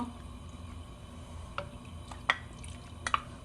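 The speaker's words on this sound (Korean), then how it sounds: "여기 김치 국물까지 그냥 다 넣어주세요" Kimchi broth is poured into a pot for a spicy kimchi bean sprout soup, giving faint, scattered drips and small liquid splashes over a quiet background.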